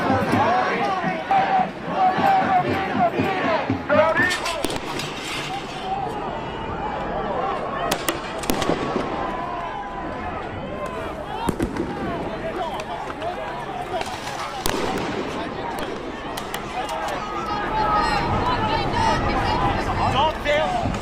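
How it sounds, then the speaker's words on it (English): Flash-bang grenades going off at a college campus protest, several sharp loud bangs scattered across a noisy crowd scene with shouting and babble throughout. "Flash bangs inside a college campus."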